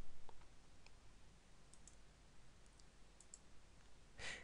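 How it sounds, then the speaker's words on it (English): A computer mouse clicking in a quiet room: a handful of faint, sharp, scattered clicks, with a louder click at the very end. "I'm going to left click, right click, and so on"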